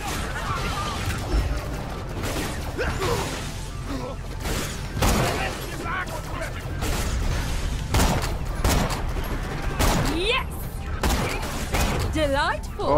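Gunfire in Borderlands The Pre-Sequel on Pandora's moon Elpis, with repeated bursts of shots and impacts running through the whole stretch, loud and dense, mixed with game effects and players talking over it.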